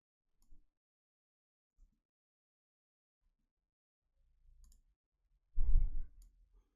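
Computer mouse clicks while adjusting keyframes in After Effects, a few faint isolated taps spread apart, followed near the end by a louder burst of handling noise.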